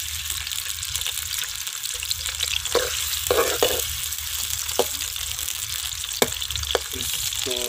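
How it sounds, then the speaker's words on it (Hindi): Onions fry in hot ghee in a pan, a steady close sizzle that runs the whole time, with occasional stirring scrapes and clinks and no talking. "अब इसके अंदर मैं प्याज डालूँगा, प्याज को हल्का सा सर्व करेंगे।"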